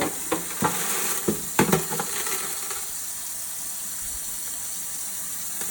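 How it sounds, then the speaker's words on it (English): Aquarium stones being washed in water, with a few sharp clacking scrapes and splashes early on over a steady rushing wash that continues alone and fairly quietly. "Washing the stones."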